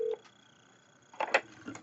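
An office desk phone dialing extension 203, with a short run of distinct keypad tones and beeps, quiet and close, one at the start and a quick cluster near the end.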